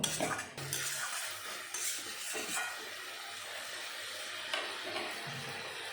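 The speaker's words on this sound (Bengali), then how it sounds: "এখন সব কিছু ভালো মতন মিশিয়ে নেব" Chopped banana flower and prawns are stirred together in a pan with spiced masala, a spatula scraping and clanking against the metal over a low background sizzle, close and without talk.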